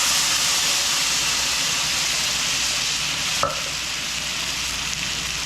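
Tomato paste frying in a hot pan for Tex-Mex cooking, a loud continuous sizzle and hiss throughout with one small clink partway through.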